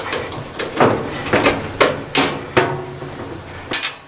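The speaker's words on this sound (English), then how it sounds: "we'll go ahead and drop this panel right here too" A metal dryer panel is dropped into place during a dryer repair, making a series of loud, close bangs and thumps with some rattling, all without speech.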